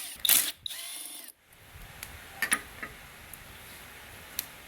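A ratchet clicks as it loosens 5mm Allen bolts holding the stabilizer on a 2015 Kawasaki H2, with a burst of loud mechanical rattling at first, then quiet scattered ticks and clicks nearby.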